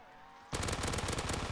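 An Uzi fires in Black Ops 3 Zombies after a brief quiet lead-in, then a loud, rapid automatic burst rattles on without pause to the end.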